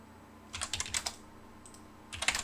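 Computer keyboard keys clatter as AutoCAD commands are entered, two quick bursts of several sharp close keystrokes separated by a short pause, with no speech.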